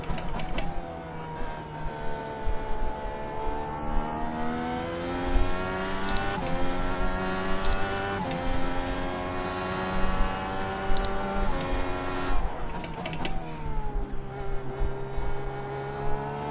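An IndyCar race car engine screams around the track at Watkins Glen, revving up through repeated gear shifts in rising sweeps with sharp shift clicks and no talk.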